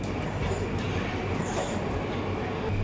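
A Moscow metro train rumbles past on a lower level of the station, a continuous low roar with faint rhythmic clicks and a thin high whine, no talking.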